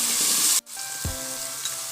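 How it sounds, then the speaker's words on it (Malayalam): Curry leaves dropped into hot oil over sautéed vegetables for a vegetable biryani with ponni rice: a loud, steady sizzle close by, cut by a brief pause, then a thump as the leaves go in and frying resumes. "ഇനി ഇതിലേക്ക് കുറച്ച് കറിവേപ്പില ഇട്ട് കൊടുക്കാം"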